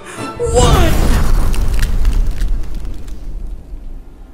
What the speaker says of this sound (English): One icy explosion coming up in 3, 2,